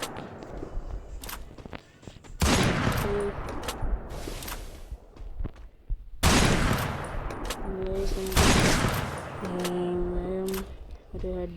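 Gunfire in the mobile shooter game Free Fire comes in loud, sharp bursts and rapid volleys, mixed with electronic game tones and brief quieter gaps.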